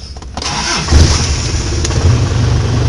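A car engine cranks and fires up after a wiring repair, then settles into a steady, loud idle with slight revving swells, close to the microphone and with no talking.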